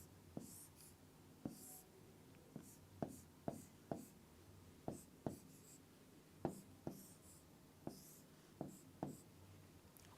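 A pen writes out a chemistry solution about electron pairing in a d-block complex. Soft, faint strokes and taps recur at an uneven rhythm over several seconds, with no talk.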